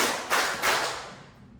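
Two sharp hand claps about a third of a second apart, fairly close and distinct, each decaying into a brief room tail, given to a spoken clapping count in a classroom activity, with no talk over them.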